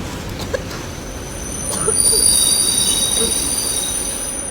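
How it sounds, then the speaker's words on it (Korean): An airport railroad train rolls past at a station, its wheels letting out a thin, sustained high squeal over a loud, steady rumble that swells midway. "저건 공항철도예요."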